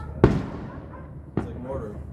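Two sharp firework blasts like mortar shells, each a loud booming crack with a long rumbling tail, about a second apart, with faint chatter in the background.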